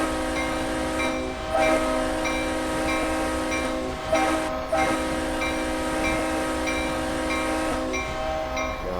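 Locomotive horn in Train Simulator Classic on the Queen Mary Island Railroad, a steady multi-tone chord sounding loud and continuous throughout, with brief mechanical clunks and rail noise underneath.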